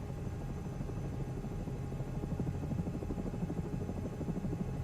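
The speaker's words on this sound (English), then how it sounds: "It sounds helicopter-y." Steady helicopter engine drone with a fast rotor chop pulsing through it, in Microsoft Flight Simulator 2024, continuous and fairly loud, no voices over it.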